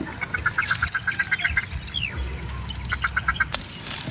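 Wild ducks quacking in a rapid repeated series, nearby and fairly loud, with a further burst of quacks later amid outdoor background noise during a duck hunt.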